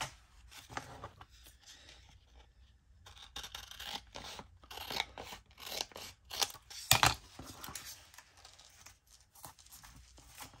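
Scissors snip and trim paper for a junk journal topper, a run of quiet, irregular cuts and rustles up close, with a sharper crunch partway through.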